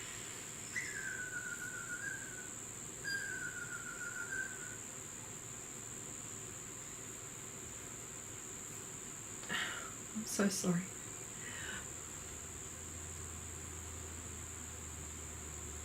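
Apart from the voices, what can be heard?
cicadas chirping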